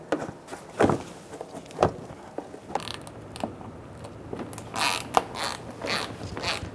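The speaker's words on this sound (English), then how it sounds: "I'm going to use a trim tool and pull out that tab" A plastic trim tool prying a fender liner tab loose on a 2000-2007 Ford Taurus, giving a string of short creaks, clicks and snaps spaced irregularly, close and moderately loud.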